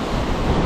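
Ocean waves wash steadily onto a shore beside a light-tackle fishing spot, a loud, continuous roar of surf mixed with wind buffeting the microphone, with no talking.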